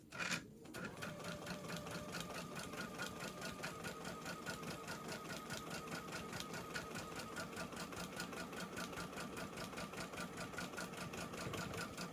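A sewing machine with a new needle and an open-toe foot stitches a puzzle quilt in a steady, rapid, mechanical chatter that runs continuously and loud after a brief start.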